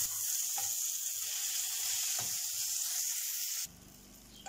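Peppers sautéing in a pan, a steady close sizzle with a couple of brief stir clicks, cutting off near the end to quieter room sound.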